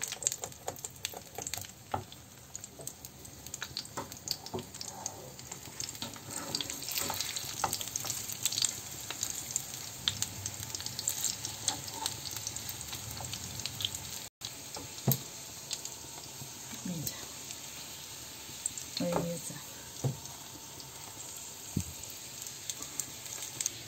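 Chicken chapli kebab fries in a pan and is gently flipped partway, giving a constant close crackling sizzle with a few scrapes and clicks from the turning.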